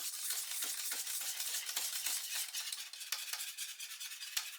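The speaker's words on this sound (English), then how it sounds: "So notice I'm swishing and stirring, swishing and stirring." Cheese sauce stirred steadily in a pan for cauliflower cheese, a continuous soft swishing with repeated scraping strokes, close and fairly quiet, with no voices.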